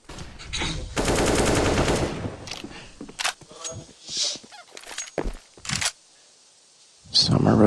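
Gunfire in CS:GO during a pro match between TYLOO and an opponent at IEM Katowice 2019: a sustained automatic burst up front, then scattered single shots and short cracks, with commentators talking over it.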